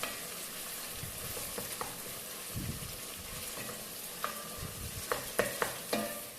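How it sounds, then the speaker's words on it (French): Tomato paste is stirred into a soup in a pot, with a constant sizzling bed and scattered scrapes and knocks of a spoon against the pot, growing more frequent toward the end. "Je mélange bien."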